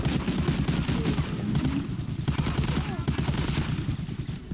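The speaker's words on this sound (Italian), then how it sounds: "Chi è che spara?" Rapid bursts of automatic gunfire and scattered shots crackle in Medal of Honor Allied Assault, dense and continuous over a low rumbling battle bed, with no voices.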